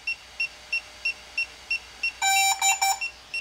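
Pairing beeps from DJI Goggles 3 linking to a DJI drone: a steady series of short, evenly spaced high electronic beeps, then a brief louder multi-tone chime sequence, close and clear with no talking.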